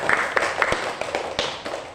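A primary school class claps together in a quick, regular rhythm of sharp close claps.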